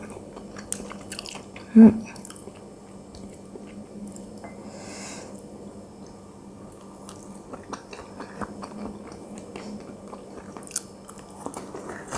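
Delivery tempura dipped in soy sauce is bitten with one sharp crunch near the start, then chewed softly and steadily, close to the mic, with no talking.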